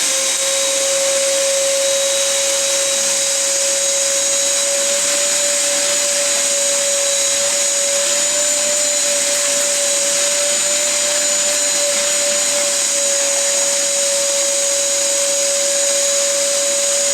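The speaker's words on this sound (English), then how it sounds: "We use a shop vac and air hose." A shop vacuum cleaning out a drilled hole during a two-post lift installation runs loud and steady throughout, its constant high whine and roar unbroken from start to finish.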